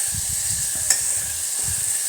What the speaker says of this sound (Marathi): तेलात असं छान परतवून घ्यायचं.